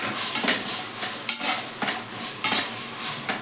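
Ginger paste sizzles steadily as it is fried in oil and stirred, with sharp scraping bursts from a utensil every second or so; no talking.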